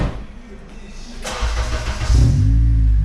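A 2004 Acura TSX engine cranks and fires up, settling into a deep, rumbling idle from a throaty 3-inch Vibrant full exhaust system, with faint voices nearby beforehand.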